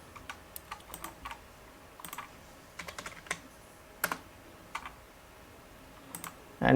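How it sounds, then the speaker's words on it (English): Text being typed on a computer keyboard in short irregular bursts of quiet, close key clicks with brief pauses between them. "type on Clive Academy."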